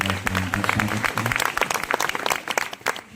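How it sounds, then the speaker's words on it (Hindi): An audience welcomes a guest with loud, dense applause, many hands clapping together in a sustained burst for about three seconds, close and full. "जोरदार ताली बजाकर उनका स्वागत करें"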